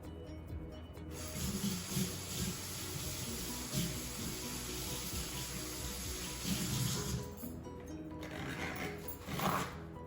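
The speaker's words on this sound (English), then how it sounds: "Let me wash my hands first." Running tap water splashes over hands being washed at a kitchen sink. A continuous close hiss starts abruptly and cuts off near the end, with faint shuffling after it.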